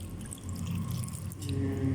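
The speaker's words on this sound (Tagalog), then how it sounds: "So, butangan ako siya, tubig." Water being poured into a pot of fish paksiw with eggplant, a soft continuous trickle and splash close by, fairly quiet with no talk over it.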